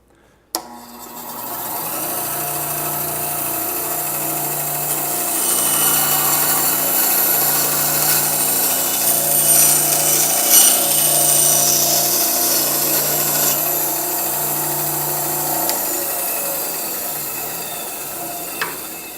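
An upgraded bandsaw slicing through 1/2-inch plywood: a steady motor hum under a rising rasp of blade on wood that holds for over fifteen seconds, then stops with a small thump.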